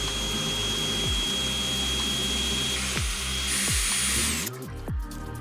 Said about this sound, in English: So we've drilled our hole through the centre of our bracket.